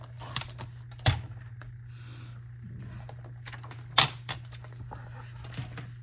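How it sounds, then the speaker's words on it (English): Scrapbook paper being trimmed on a crafting table, with scattered soft clicks and snips, two sharper cuts standing out over a steady low electrical hum. "Let me trim this a little bit, just a little bit better."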